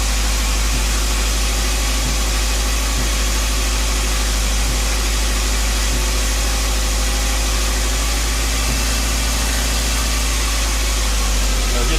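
A Ford Fiesta Turbo XR2 engine idles steadily during carburettor adjustment, a constant close, loud mechanical hum with a low throb and a broad hiss across the whole stretch and no talking.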